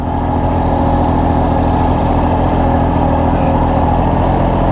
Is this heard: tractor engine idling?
yes